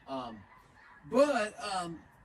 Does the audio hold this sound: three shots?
no